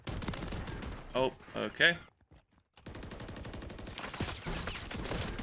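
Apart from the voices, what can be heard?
full-auto AR shotgun firing in video game Call of Duty MW3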